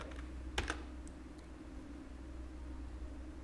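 A single sharp keystroke on a computer keyboard, like the Enter key, followed by a couple of fainter clicks over a low, quiet room hum.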